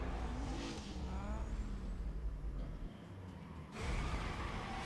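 A Ford GT in Need for Speed Most Wanted roars at speed with a continuous engine drone and rising rev sweeps, plus a brief dip before the noise swells again.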